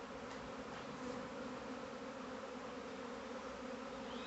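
A swarm of honey bees arriving at a hive box makes a dense, continuous buzzing hum that stays steady and fills the air throughout, with no voices.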